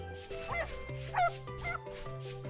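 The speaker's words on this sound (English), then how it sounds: "I heard a puppy barking, but I guess it was just the wolves themselves" Wolves in the survival video game Vintage Story give three short, high yipping barks spaced about half a second apart over a soft ambient background.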